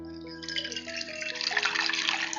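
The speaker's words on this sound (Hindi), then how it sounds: "तो बस थोड़ा पानी मैं यहाँ पे ले रही हूँ।" Hot water poured into a glass, a steady close splash whose pitch slowly rises as the glass fills, running alone without talk.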